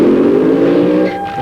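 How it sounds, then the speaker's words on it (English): A funny car at a drag racing meet in Santa Pod does a burnout, a loud sustained engine roar that holds steady and then eases off slightly near the end, with no voices heard. "Nice tight little burnout for Gary Page. Hear how crisp that engine is."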